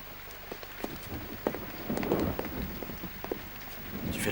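Steady rain patters on surfaces nearby, with scattered drips and occasional sharper taps.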